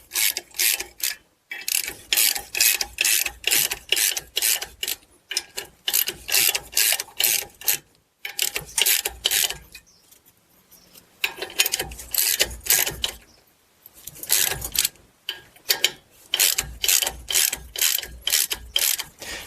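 A ratcheting wrench cranks a puller to draw the rear brake rotor off the hub of a 2004–2011 Ford F-150, giving rapid bursts of loud, close clicking in repeated strokes with short pauses between them.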